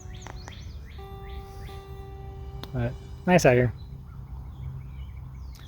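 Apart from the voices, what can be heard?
birds calling outdoors in the country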